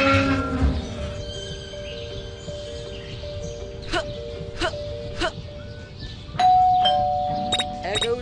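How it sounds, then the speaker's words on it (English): A school bell rings in a cartoon-style classroom scene, a steady sustained ringing tone with a few sharp struck rings near the end, heard under background chatter and voices. "There goes that stupid bell again."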